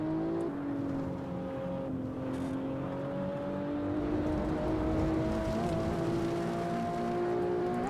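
Mazda MX-5 race car at Lime Rock on a lap, engine holding a steady loud drone with rising pitch as it accelerates, alone without talk.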